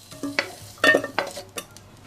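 Scallion and ginger are stir-fried in a pan in short, scraping bursts of a spatula on metal, with a soft sizzle between the strokes.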